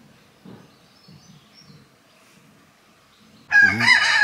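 Cockerels in their pens on a country estate: faint clucking and murmurs for a few seconds, then a loud, close rooster crow bursts in and carries to the end.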